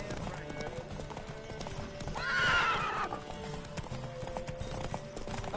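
A horse gallops in Witcher 3 with rapid rhythmic hoof clip-clops, broken by a loud whinny partway through, while a voice talks over it.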